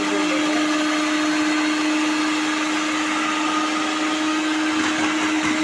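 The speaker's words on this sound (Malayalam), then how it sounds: "അപ്പോൾ നമുക്ക് മിക്സി ഓൺ ചെയ്ത് കൊടുക്കാം." An electric mixer grinder, used for chopping ginger, runs as a loud, steady whirring drone with a fixed motor whine for the full stretch, and no voices are heard over it.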